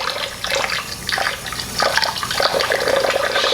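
Tap water runs into a pot of rice for rinsing, a continuous splashing pour with small surges, close and fairly loud, with no talking.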